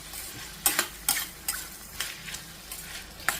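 A spoon stirs ridge gourd pieces and tamarind in a pan, making repeated short scraping clinks over a quiet, low simmer.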